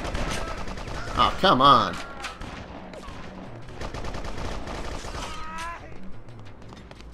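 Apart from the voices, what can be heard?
pistol gunfire in video game Bloodrayne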